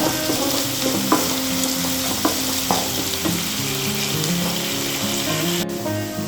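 Onions frying in a pan for cauliflower, potato and tomato curry: a steady, loud sizzle close up, with occasional scraping stirs and no talking.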